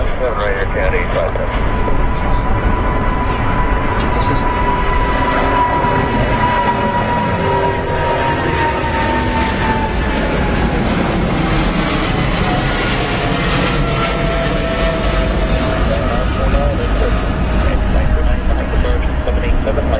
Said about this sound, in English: Another 777 going.